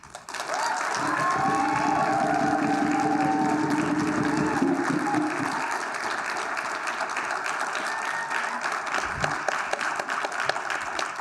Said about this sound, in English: we can give each group a round of applause